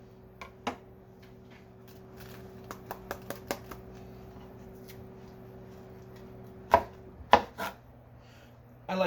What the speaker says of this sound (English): And we cut them very finely, quite thin.